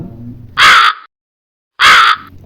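A crow in a children's story about a grandmother, a fox and a stolen vada gives two loud, harsh caws close by, separated by a brief silence.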